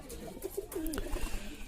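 A pet baby pigeon with a ring on its leg gives soft, low coos, a few short throaty calls close by but faint, with no talking.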